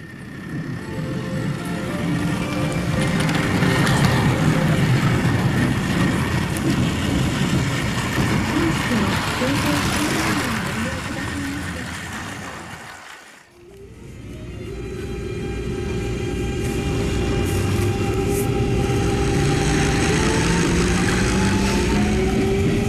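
A Plarail toy train runs on a track layout recreating Keisei Line Aoto Station, giving a continuous plastic rumble and motor whine that dips to near silence midway before building again.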